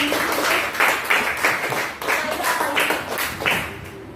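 Classroom applause from a group of students, dense clapping in bursts that swell and fade over about four seconds, fairly close and without talk.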